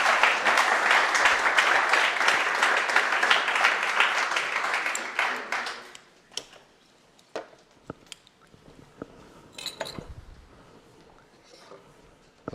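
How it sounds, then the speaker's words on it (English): An audience at a conference summit breaks into warm applause that fills the first six seconds, then fades to scattered claps, rustling and small knocks as the hall settles. "And a warm applause,"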